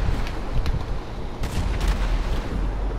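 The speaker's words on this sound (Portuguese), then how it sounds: "agora é só bala, é só tiro" Continuous gunfire rattles through a GTA 5 Online shootout, dense and loud, with a few sharper blasts standing out from the steady barrage, no voices over it.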